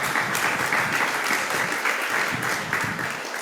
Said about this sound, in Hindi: और भी जोरदार करते ध्वनि से इस पे ताली मारनी चाहिए